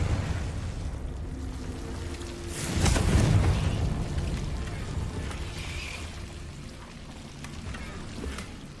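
A Confringo fire-blast spell in Hogwarts Legacy bursts into a swelling boom at about three seconds, rising out of a low ambient rumble and fading slowly over the next second or two.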